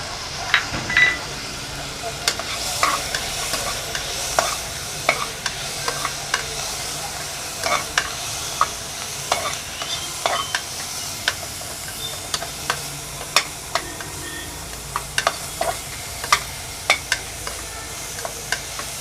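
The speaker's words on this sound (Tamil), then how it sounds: "அடுத்து வெங்காயம், தக்காளி போட்டுக்கலாம்." Onion and tomato fry in a pressure cooker while being stirred, a steady sizzle broken by repeated sharp scraping and clinking of the spoon against the metal pot throughout.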